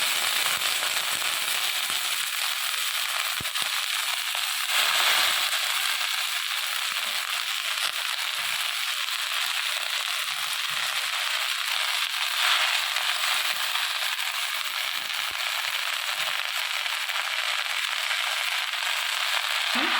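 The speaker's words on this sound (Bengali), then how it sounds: "দেখুন আমি শাকটা কড়ার মধ্যে দিয়ে দিলাম।" Bete greens (bathua) tossed into a hot karai without water give a steady, loud crackling sizzle. It runs unbroken throughout, with no voices.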